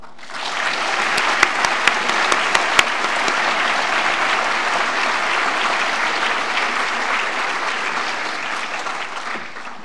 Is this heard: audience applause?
yes